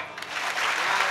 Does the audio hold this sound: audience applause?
yes